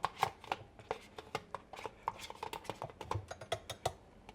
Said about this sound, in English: So I'm just gonna scoop it into the bowl as best as I can